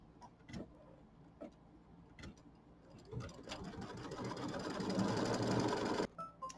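A sewing or embroidery machine stitches the tack-down line of a leaf on a Kimberbell mini quilt, starting with a few separate ticks and then building into a steady, fairly loud rapid whir that stops abruptly near the end.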